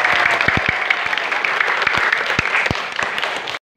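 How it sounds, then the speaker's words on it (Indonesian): Audience applause at an Indonesian elementary school event: dense, steady clapping from a group of listeners, fairly close and loud, continuing for several seconds before stopping abruptly. "Wow, tepuk tangan dong."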